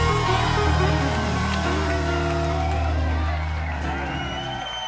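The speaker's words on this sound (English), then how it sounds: "Clap your hands and give God a praise." A gospel studio audience in Nashville claps and whoops together over sustained organ-like tones, the cheering loud at first and tapering slightly toward the end.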